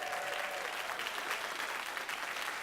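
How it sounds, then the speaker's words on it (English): Studio audience applauding at a live evening event, a dense, steady wash of many hands clapping at once, sustained and fairly loud throughout with no gaps. "Give yourselves a round of applause."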